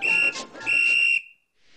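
A loud, shrill whistle blown twice in quick succession, each blast steady and piercing, then a soft hiss as it fades.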